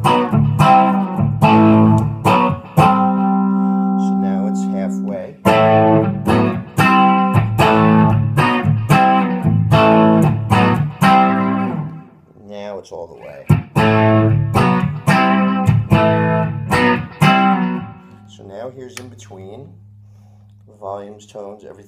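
A 1996 Epiphone Les Paul Custom with Gibson 490 pickups, played on the lead pickup with tone fully off, through an amp with a dark, muffled tone, strummed chords and single notes ringing with sustain, loud and close, no talking.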